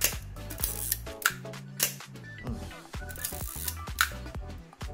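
A Zorki 4 rangefinder camera shutter fires at 1/1000 second amid a close, quiet series of sharp mechanical clicks and ratcheting film-advance winds, repeated several times in an irregular rhythm.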